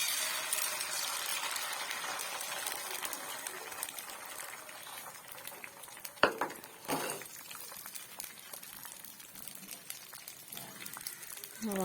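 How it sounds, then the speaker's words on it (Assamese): Eggs fry in hot oil in a pan and get stirred, giving a soft, steady sizzling hiss. A couple of sharper scraping clicks sound from the utensil. The sound is fairly quiet and close. "তেলখিনি মোৰ ধুনীয়াকৈ গৰম হৈ গ'ল আৰু এতিয়া মই দিম ইয়াত কণীকেইটা।"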